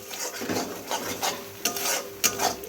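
Eggplant masala is sautéed in a pan with a splash of water, giving quick scraping and rubbing spatula strokes with a few sharper metallic clicks over a soft background sizzle, up close.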